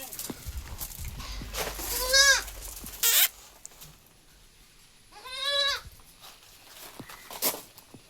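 Three small goat kids, just starting on feed and water at a livestock sale, give loud wavering bleats in separate bursts, with short clatters and bits of background voices in between.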